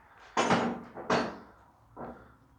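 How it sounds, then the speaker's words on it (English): An old oak-plank church door with iron fittings at St Mary the Virgin, Burnham-on-Crouch, Essex, is turned and knocked, giving three heavy wooden thuds with short resonant decays. "If you turn the door around,"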